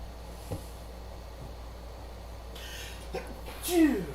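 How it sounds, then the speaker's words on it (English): A single sharp sneeze bursts out near the end over steady background hum, following a few faint soft noises. "That sneeze came out of nowhere"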